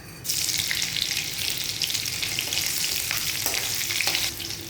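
Green chilies sizzle loudly in hot oil with cumin seeds in a pan for sabudana khichdi, a steady close frying hiss with occasional stirring clicks and no talk.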